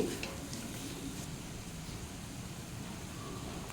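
Ground spices such as cumin powder, garam masala and kasuri methi fry in a pan for paneer biryani, giving a faint, steady sizzle with a few light clinks at the start.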